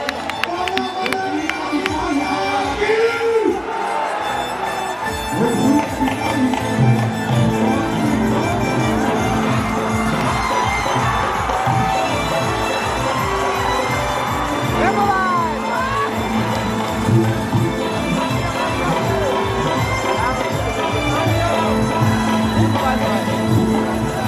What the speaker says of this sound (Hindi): एक जोरदार ताली बजा कर सम्मान दीजिए पवन सिंह